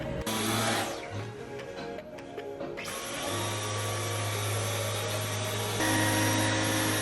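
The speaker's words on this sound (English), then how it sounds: "So this is him vacuuming the couch" A Dyson vacuum cleaner runs steadily while vacuuming a couch, a loud continuous whine with a shift in pitch and load as the nozzle moves over the upholstery, then settling into an even drone.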